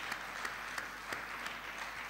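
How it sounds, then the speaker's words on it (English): Church congregation applauding at a Feast of Tabernacles service, a steady wash of clapping with a few sharper claps standing out, fairly distant and moderately quiet. "Let's give him another round of applause."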